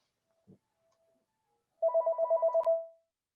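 A home landline telephone rings in a quiet room, a fast warbling electronic trill of about eight rapid pulses lasting roughly a second, preceded by a brief faint click.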